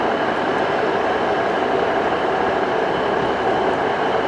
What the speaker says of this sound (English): Here comes the 14:55 ARRIVA Trains Wales Service to Llandudno